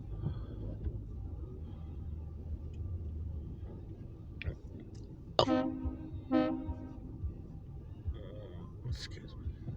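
An Alco S2 diesel switcher locomotive with a short grain hopper train sounds two short horn blasts over a rumbling idle, with a person talking nearby.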